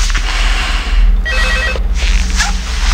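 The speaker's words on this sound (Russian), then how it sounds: "Опа, звонит кто-то." A telephone rings in the horror video game Five Nights at Freddy's 2, loud trilling bursts of an old-style bell over a dense, droning game ambience.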